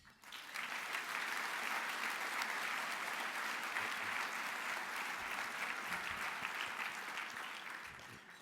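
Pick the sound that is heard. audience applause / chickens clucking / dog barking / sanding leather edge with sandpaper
audience applause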